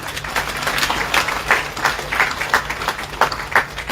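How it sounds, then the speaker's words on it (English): Moderate applause from an audience at a hospital ceremony launching a CT scan machine, a busy, uneven patter of many hands clapping that continues throughout at a middling distance. "Let's clap for them again."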